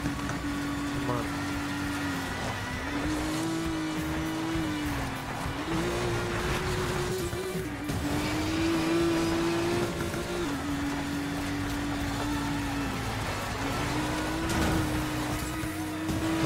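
Race car engine in the video game Need for Speed Payback, a continuous droning whine that rises and falls in pitch as the car accelerates and shifts, with a person talking over it.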